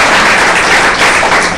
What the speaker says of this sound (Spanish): Dale un aplauso a ese glorioso Señor.